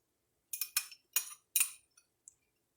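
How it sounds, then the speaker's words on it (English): Minced garlic goes into a pan of cooked ground turkey with a few quick metallic clinks and taps of a utensil against the pan. The taps are close and light, with a couple of fainter ticks after them. "I'm going to go ahead and add the minced garlic."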